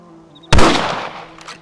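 A single sharp rifle shot from Red Dead Redemption cracks loud and close, then rolls off in a short fading tail.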